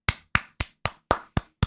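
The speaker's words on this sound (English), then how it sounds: "can we give a round of applause for her real quick?" Seven sharp, evenly spaced hand claps ring out close and loud, with brief silence between each, in a round of applause for Mama Panda.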